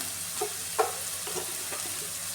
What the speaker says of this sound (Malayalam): ഇനി ഇതിലേക്ക് സവാളയും ചെറിയുള്ളിയും കൂടി ഇട്ട് കൊടുക്കാമേ വഴറ്റിയെടുക്കാമേ